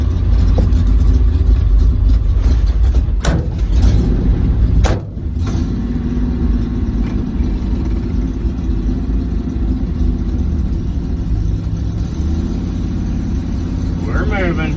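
A 1983 Chevy drives along, its engine rumbling steadily and loudly from inside the cab with a few knocks and rattles, while voices may be faintly present under the motor noise.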